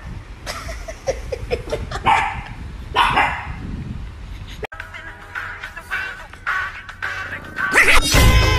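Dogs barking in bursts amid noisy household commotion, with crashes and yips, fairly loud and close, and some voices mixed in.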